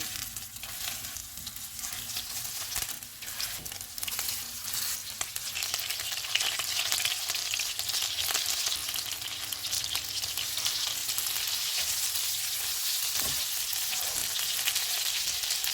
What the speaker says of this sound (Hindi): ऑयल गर्म हो गया, इसमें फ़िश के पीसीज रख देंगे।